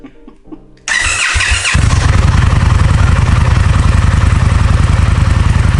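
An Indian FTR 1200 motorcycle with an Akrapovic aftermarket exhaust cranks and fires up, then settles into a loud, rumbling idle with a deep, throaty exhaust pulse, close by.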